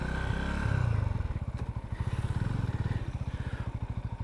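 A Sothassi Classic 400 retro motorcycle clicks into first gear and pulls away, its single-cylinder engine thumping in a rapid, even pulse close by, loud and steady after a brief rev.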